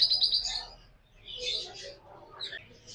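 Grey Java sparrow breeder pair chirping at a bird market, high bright tweets in short clusters, fairly close against a faint market hum.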